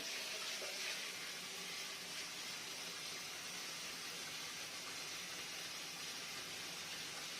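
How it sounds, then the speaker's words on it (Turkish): Hot water runs from a tap after a combi boiler repair, a steady hissing rush that stays even and fairly faint throughout, with no voices. "Şimdi sıcak suyumuz çalışıyor."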